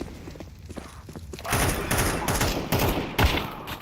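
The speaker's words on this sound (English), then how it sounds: "He literally killed me with a pistol from there." Pistol gunfire in the Counter-Strike 2 video game: a loud cluster of rapid shots erupts partway through, booming and dense, following quieter game background noise.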